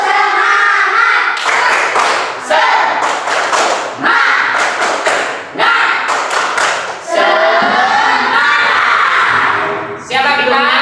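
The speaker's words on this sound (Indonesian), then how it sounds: "Tepuk semangat." A standing class performs tepuk semangat, a rhythmic spirit clap in a classroom: loud, close bursts of patterned group clapping in repeated phrases with brief pauses, mixed with voices chanting along.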